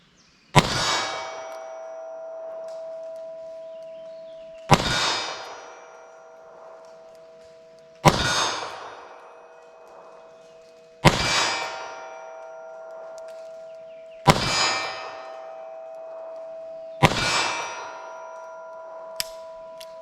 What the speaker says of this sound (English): So let's see how our 32 does at our steel silhouette down there.